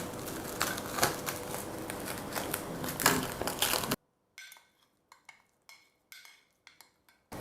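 Thick clotted cream scraped and spooned from its container into a bowl for homemade butter, a dense crunchy scraping at first, then a series of short soft clinks and scrapes with quiet pauses.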